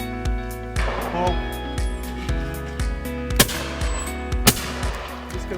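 A Blaser F16 Grade 4 Sporter shotgun fires at clay targets in the open, a sharp, loud crack standing out against steady background noise, with a second, fainter report nearby.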